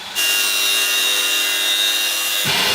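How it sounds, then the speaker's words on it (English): Steady, harsh rasping of a saw cutting through a part on a rebuilt car being trimmed to fit, loud and continuous for over two seconds, then a brief shift in tone at the end. "the right side didn't fit very well, so Sean is currently cutting it down so that it fits good."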